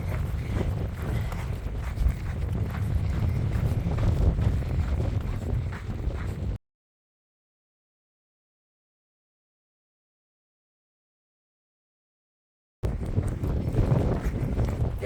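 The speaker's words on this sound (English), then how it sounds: "A little bit windy, a little bit chilly." Wind gusts across a mountain trail on a chilly morning, a loud low rumble buffeting the microphone, broken by a long stretch of complete silence before the blowing resumes.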